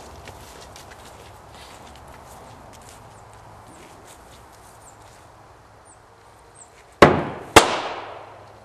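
Two Dynatec BFIG airsoft grenades burst on the bounce, a pair of sharp, loud bangs less than a second apart with ringing decay, after several seconds of faint ambient shuffling.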